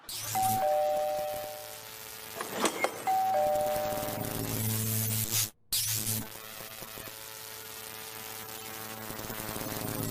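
A faulty, electrically shocking doorbell chimes its two-tone ding-dong twice, with a loud electrical buzz and hum droning underneath and a brief cut midway.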